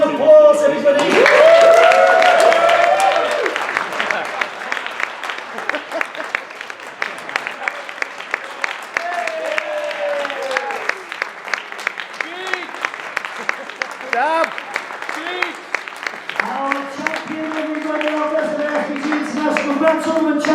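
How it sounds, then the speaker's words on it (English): A crowd applauds a Grand Tournament champion at a tournament event, a loud burst of clapping that settles into a sustained patter while voices and cheering carry on over it. "Big round of applause, everybody!"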